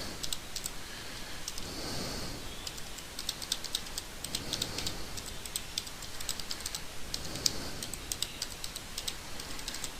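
Someone types a website address on a computer keyboard, producing a continuous run of quick, light key clicks at close range, steady and unbroken throughout with no talking.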